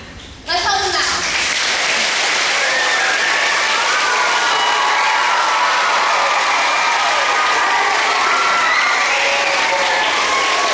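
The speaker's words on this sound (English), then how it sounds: "You want to clap? Let's help them out." A crowd of schoolchildren clapping and cheering as at a baseball game, starting abruptly after a short spoken moment and sustaining loud, dense applause with excited shouts and chatter.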